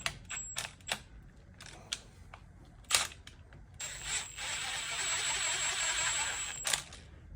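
Wrench snugging down clutch basket bolts on a Kings Mountain Indian motorcycle: scattered sharp ratcheting clicks and metallic taps up close, then a longer stretch of steady rapid ratcheting, with no talking.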